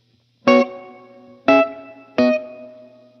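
Three separate guitar notes or chords played through a standard plate reverb on a Line 6 HX Stomp at its default two-second decay, each striking sharply and then ringing out in a smooth, even tail, alone with no talking.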